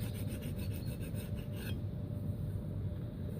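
A blade being sharpened to a bevel in the woods, a steady close rasping scrape with quick repeated strokes at first that settle into continuous rubbing.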